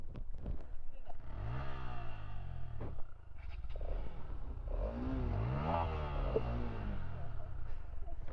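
A Pulsar motorcycle on a busy road trip from Kolkata toward Bakkhali revs up in two rising engine sweeps, its pitch climbing loudly and close over steady road rumble.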